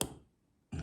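Pins click inside a Master padlock being picked, two short, close, faint clicks separated by a brief silence.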